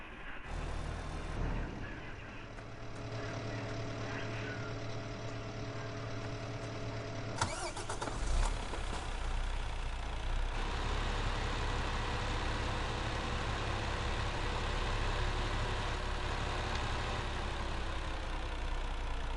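A truck at a logging site cranks and its engine catches, then settles into a loud, steady idle that rumbles on for several seconds with no talk over it.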